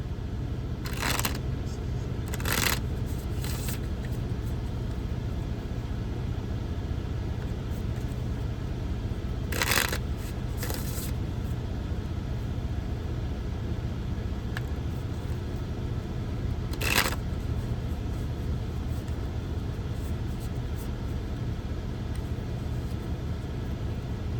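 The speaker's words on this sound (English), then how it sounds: "Okay, so I'm gonna shuffle again." A few short, crisp riffles of tarot cards being shuffled for a reading, spaced several seconds apart over a steady low background hum, with no talking.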